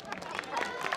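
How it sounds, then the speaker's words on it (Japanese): Applause and cheering from a crowd at a school festival baseball game, a dense continuous patter of clapping with murmuring voices mixed in. "拍手 拍手"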